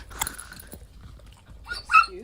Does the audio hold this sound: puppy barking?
yes